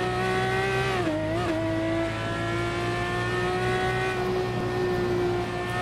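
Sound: race car accelerating in racing video game

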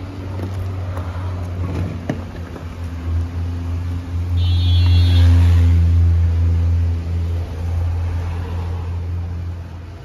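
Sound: Lexus LS400 car being driven and reversed

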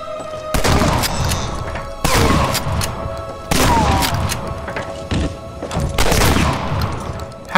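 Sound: shotgun fire in Medal of Honor Allied Assault video game

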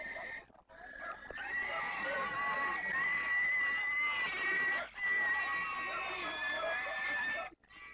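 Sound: pigs squealing as they are brought to be blessed

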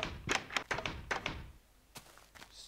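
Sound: door closing via lever in the video game Minecraft

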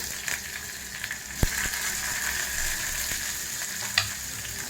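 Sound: onion frying in a pan for drumstick sambar

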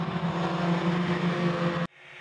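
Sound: Buran snowmobiles revving at the start of a race

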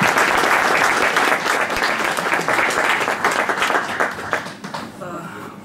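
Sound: applause

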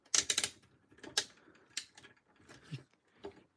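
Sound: ratcheting shoulder joints of Mastermind Creations Nimbus transforming robot toy

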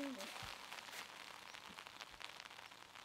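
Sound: rain falling on disc golf course

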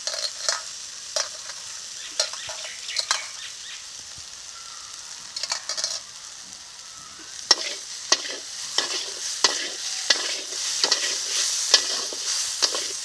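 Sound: ground neem leaves stirred into fried eggplant in a pan

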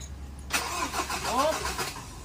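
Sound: Ford Ranger engine starting

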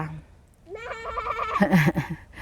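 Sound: sheep bleating

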